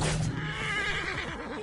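A horse neighs loudly and close in the Assassin's Creed Origins video game, a single drawn-out whinny lasting under two seconds with no talk over it.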